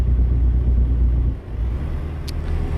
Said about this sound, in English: I forgot how small and pathetic this engine brake was.